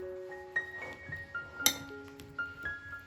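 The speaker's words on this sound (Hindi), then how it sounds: "इसको हम अंदर मिक्स करेंगे" A spoon stirring banana chaat with lemon juice, sugar, black pepper, chaat masala and cumin powder in a bowl, giving a series of sharp clinks and taps with ringing tones at irregular intervals, close and alone.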